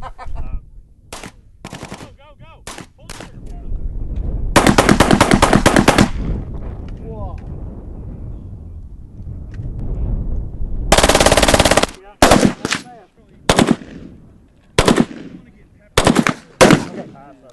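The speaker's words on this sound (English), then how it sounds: "Today I actually shot, which I don't believe they had last time, a 12 gauge automatic shotgun." A 12 gauge automatic shotgun fires loud rapid bursts at an outdoor shooting event, long rattling volleys broken up by shorter clusters of blasts, with echoing gaps in between.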